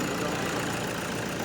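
A car engine idles steadily right after a battery was removed and reinstalled, a continuous close, even rumble with a faint knocking texture throughout.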